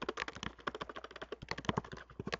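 Rapid clattering keystrokes on a computer keyboard, dense and close, a continuous flurry of clicks with no voice over them.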